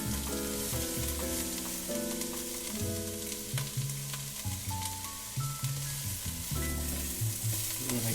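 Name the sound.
onions, carrots and parsnips sizzling in a pan with meat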